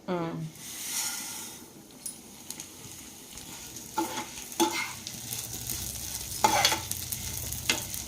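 Vermicelli with cashews, raisins and cardamom frying in ghee, a soft steady sizzle with intermittent stirring scrapes and clinks, close by, with a voice speaking over it.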